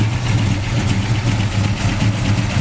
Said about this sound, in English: Powered by a great running 340 V8 engine, 4-barrel carburetor.